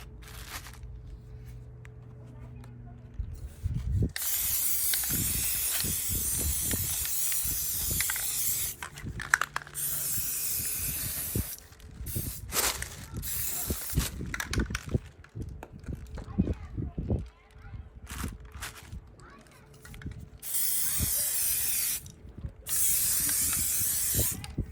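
Paint being applied by spray to the rim of a bathroom sink in a powder room makeover, with repeated hissing bursts of varying length close by, separated by short pauses and handling noises.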